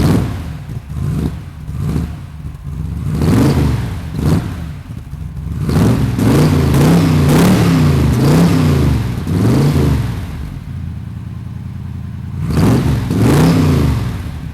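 The big American V8 in an AC 428 Frua Fastback revs repeatedly on a sunny Swiss road, loud, close bursts of deep engine roar rising and falling in pitch, each blip clearly separated by brief idling lulls.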